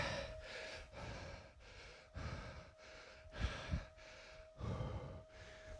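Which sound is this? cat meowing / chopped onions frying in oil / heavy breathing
heavy breathing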